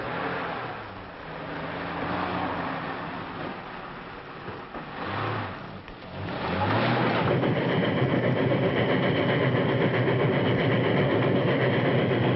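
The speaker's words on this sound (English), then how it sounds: "That's the train." A train rumbles past, starting moderate and swelling into a loud, sustained rolling clatter of rail cars that continues to the end.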